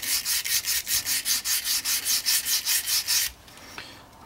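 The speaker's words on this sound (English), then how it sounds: "I'm just going to carry on sanding until we get to that point" Rapid back-and-forth sanding strokes rasp against the wooden handle of an Opinel knife in an even rhythm, about fourteen strokes, then stop, leaving quiet.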